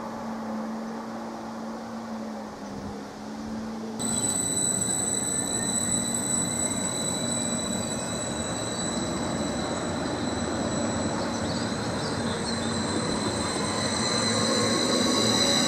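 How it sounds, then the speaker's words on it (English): A train pulls away from Needham Market station with rising motor whine and high steady tones, while wheels rumble and squeal close by in a continuous loud wash of rail noise. "Has just departed our platform 2, working the 10:50 service to Ipswich."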